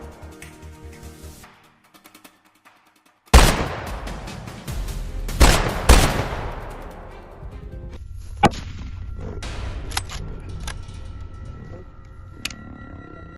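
Rifle shots ring out during a lion hunt: one sharp, loud crack, then two more close together a couple of seconds later, followed by quieter knocks and rustling.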